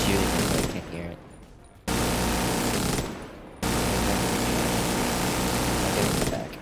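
Rapid automatic gunfire from a weapon in The Division 2, loud and dense in sustained bursts broken by two short pauses, with talk mixed underneath.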